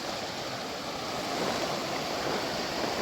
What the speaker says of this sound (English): Now I'm down to Matterhorn Creek.